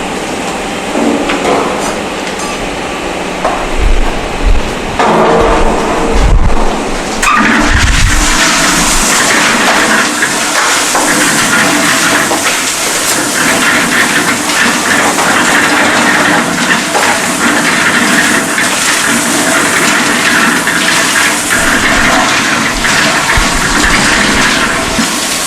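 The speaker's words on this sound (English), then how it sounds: "we are going to add the coarse aggregate to the concrete mixer" A concrete mixer drum churns coarse and fine aggregate, giving a loud, steady rumbling and gritty rushing roar that runs continuously throughout, with a few heavier thumps near the start.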